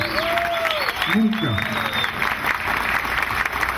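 An audience applauds the governor at an extension workers' day event in 2013, a steady wash of clapping under someone speaking over it.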